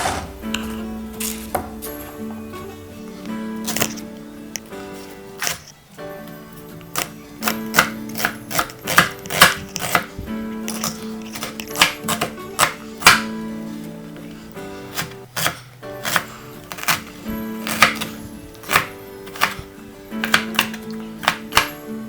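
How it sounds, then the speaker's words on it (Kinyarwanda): A knife chopping ingredients for fried rice on a board, a loud rapid run of sharp cuts in irregular bursts, close and alone with no talk. "Ngeze nkate n'ikindi gice."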